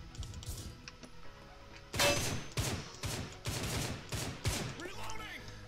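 Bursts of gunfire from the Line of Sight shooter video game crackle in a rapid volley of sharp, closely spaced shots, loud against a quieter game background.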